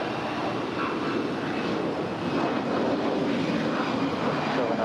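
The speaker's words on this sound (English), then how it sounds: "Dreamliner landing here on 25 left here on the south side." A Boeing 787 Dreamliner landing on runway 25 left on the south side of LAX makes a sustained, fairly loud rushing jet roar that swells slightly as it goes.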